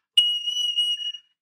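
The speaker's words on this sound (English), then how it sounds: "If you hear squeaky sound like this," A soprano recorder gives a single shrill, squeaky high note, overblown and lasting about a second, sounding thin and piercing against silence.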